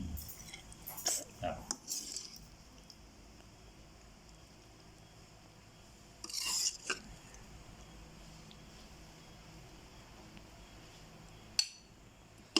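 A serving spoon scrapes and clinks against a pan and bowl while stir-fried stink beans with minced pork and fresh shrimp are dished up, in two short bursts of metallic clatter over a quiet room.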